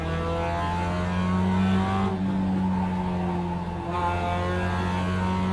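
Race car engine held at full throttle in a racing video game, a loud sustained high-pitched drone with steady harmonics and slight pitch shifts as it holds speed, continuous throughout with no talk.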